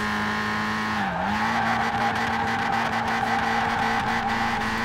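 A VW Golf Mk1 in the racing game Forza Horizon 4 holds a loud, steady engine drone under continuous tire squeal and skidding, with a brief dip in pitch early on.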